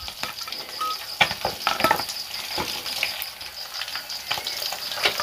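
Small baung fish fry in hot oil in a cooking pot at a forest hut, a close, steady crackling sizzle with bursts of popping spatter, with no voices.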